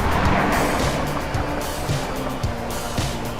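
A car rumbles past nearby over steady road and wind noise, its engine low and fading, while a remote-control GTR car is driven.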